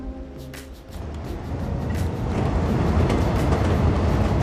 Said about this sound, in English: So, this is our passenger train.